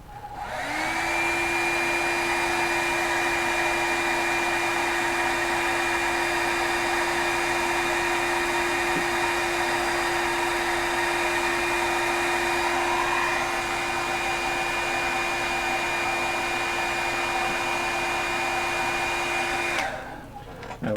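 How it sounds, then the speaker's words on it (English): A heat gun shrinking heat-shrink tubing blows steadily for about twenty seconds with a constant high whine over a rushing airflow, then cuts off abruptly. "It's almost as noisy as the wife's hairdryer. It is a hairdryer."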